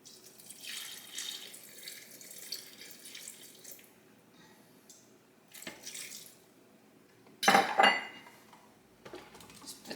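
Water is poured into a blender jar for chilaquiles rojos sauce, with light clinks of kitchenware and a brief louder splash and pour near the end, heard close with no talking.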